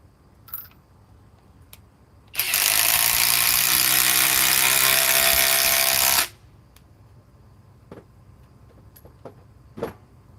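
A Skil Power Core 20 battery power tool runs at full speed in one continuous loud whine for about four seconds, then cuts off, with faint clicks and handling noises before and after.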